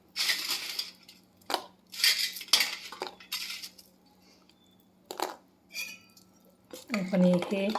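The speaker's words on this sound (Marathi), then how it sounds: "आपण हे एकसारखं हलवून घेऊ त्या वाफीच्या" A spoon stirring gulab jamun through warm sugar syrup in a metal pan, a few close scraping and clinking strokes separated by short pauses, with a faint steady hum underneath and a voice briefly at the end.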